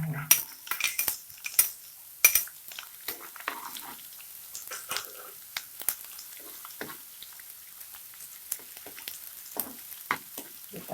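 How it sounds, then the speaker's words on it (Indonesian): Shallots are sautéed in a pan for a tauco gulai with green beans, beef tendon and tofu: a soft, close sizzle under repeated metallic clinks and scrapes of a utensil against the pan. "Kita tumis bawang merah"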